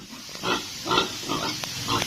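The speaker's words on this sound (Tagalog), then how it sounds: "Ito yung baboy ni Kabungot oh." A pig grunts in a few short, separate bursts spread over two seconds, close and moderately loud, with no one speaking.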